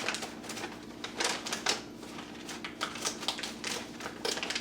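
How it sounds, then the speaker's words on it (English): Gallon Mylar bag holding egg noodles being zipped shut, a quick series of close, crisp clicking ticks as the zipper seal is pressed closed along its length over a faint steady hum. "Zip it up"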